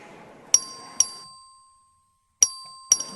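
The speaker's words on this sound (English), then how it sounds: "The clerk ring the bell." A voting bell in a legislative chamber rings four clear, resonant dings in two pairs, each tone ringing out and decaying into near silence between strikes.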